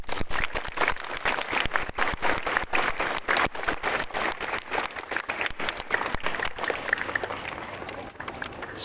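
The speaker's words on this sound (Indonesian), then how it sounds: "Coba tepuk tangan." A crowd of school ceremony participants at a morning assembly applauding, brisk loud clapping that runs steadily and thins slightly toward the end, with no talking.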